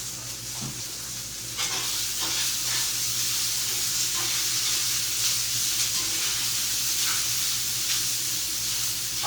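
Bacon sizzling in a frying pan, a dense steady crackling hiss that runs continuously and close, with faint stirring clicks and no voices.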